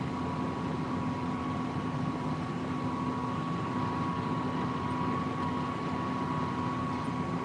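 A farm tractor fitted with a 60 gallon per minute hydraulic pump runs steadily during corn planting, a continuous loud engine drone with a sustained hum and no talk over it.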